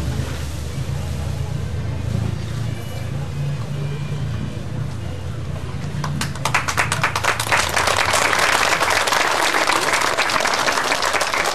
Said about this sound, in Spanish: Un fuerte aplauso nuevamente por estos cultores jóvenes y no tan jóvenes